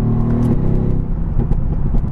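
A tuned 2018 Mercedes-AMG GT R with larger turbos sends out a deep, loud, continuous exhaust rumble with induction roar, heard close and alone.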